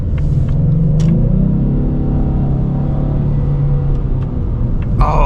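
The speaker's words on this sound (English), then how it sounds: "Oh man, I love that turbo and engine noise." Ford EcoBoost Mustang turbo engine accelerating under part throttle, a steady deep rumble with rising turbo whoosh heard from inside the car, loud and continuous.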